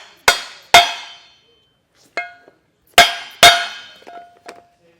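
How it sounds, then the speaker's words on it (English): Metal hammer blows driving a part into a B&W Turnoverball underbed gooseneck trailer hitch bracket on a 2025 Ford, sharp ringing strikes in uneven pairs with lighter taps between, each decaying with a metallic ring. "And then I'm just going to hammer it in to get it in there."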